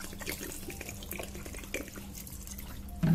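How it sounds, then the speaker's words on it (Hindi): Water is poured from a bottle into a pressure cooker for vegetable soup, a steady, faint stream of running liquid over a low background hum, ending with a slightly louder splash. "एंड फिर इसमें हम पानी ऐड कर देंगे। मैंने ये एक बॉटल पानी ले लिया है"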